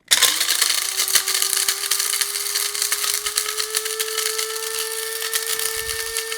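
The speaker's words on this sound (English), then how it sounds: "I'm gonna grab the top to my spice grinder and we're gonna grind away" An electric spice grinder whirs steadily as it grinds cinnamon for a pumpkin spice mix. The motor tone is loud and close and runs without pause, rising slightly as the pieces break down and rattle, with no talking.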